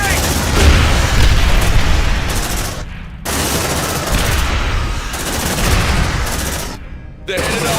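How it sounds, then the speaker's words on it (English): A grenade blast and heavy gunfire in the Aliens: Dark Descent game, with loud, dense bursts of shooting that twice cut to brief silence before resuming, under shouted voices. "Grenade!"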